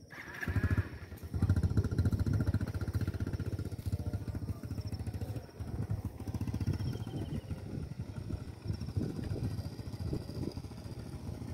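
A motorcycle engine labours and revs unevenly as it struggles over muddy ground after rain near a reservoir, droning steadily and close for the whole stretch with brief dips in power.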